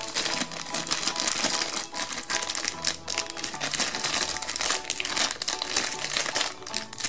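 Plastic packaging around an LOL Surprise doll's bubble is torn open by hand, giving loud, close, continuous crinkling and crackling with sharp snaps throughout.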